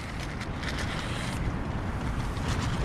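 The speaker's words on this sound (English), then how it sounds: "It's still really windy, not sure if you can hear it. Tent's still moving about loads." Constant loud storm wind buffeting a tent close by in winter woods, a dense rumbling roar with flapping surges and no talking.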